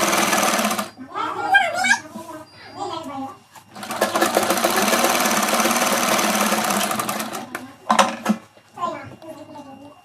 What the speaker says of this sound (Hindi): दोनों साइड से मैं इसी तरीके से स्टिच कर लूँगी।